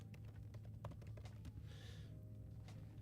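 Computer keyboard typing during a graphic design session, heard as faint, irregular key clicks over a steady low hum, with no talking.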